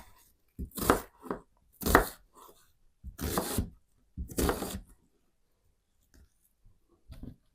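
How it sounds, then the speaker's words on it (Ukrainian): Knife chopping onion into rough pieces on a board, a few separate bursts of cutting strokes spaced apart with quiet gaps between, close and moderately loud. "Я нарізу, наріжу ось такими довільними шматочками. Цибулю також довільними шматочками."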